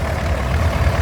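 D2 petrol paraffin spark-ignition tractor with an original cab idling at a steam rally, a steady low, lumpy engine chug, close and continuous for a brief moment.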